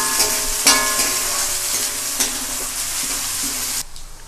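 Onion roasting in a pan for poha chivda, a bright loud sizzle with intermittent spoon scrapes and clinks, the frying noise dropping off abruptly near the end.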